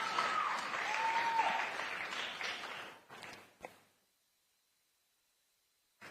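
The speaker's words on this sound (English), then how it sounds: "You can clap for him, please." An audience at a panel event on children's digital safety in Africa applauds, a dense, even wash of clapping that tapers off after about three seconds and leaves near silence.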